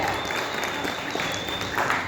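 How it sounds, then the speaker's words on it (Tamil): Steady applause from an audience at a press meet for the Kannappa film team, a dense continuous patter of clapping hands filling the hall at moderate volume. "நம்ம ஒரு அரங்கம் நிறைந்த கைத்தட்டல் இந்த தருணத்தில் நான் கொடுக்கணும்னு வேண்டிக்கிறேன்"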